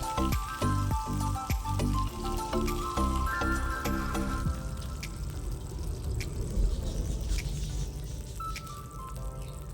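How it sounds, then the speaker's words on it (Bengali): Pomfret fish pieces sizzle and crackle steadily in hot oil in a kadai, with a dense close spitting hiss and scattered pops and clinks throughout. "এইভাবে হালকা হালকা করে মাছগুলোকে ভেজে নিতে হবে"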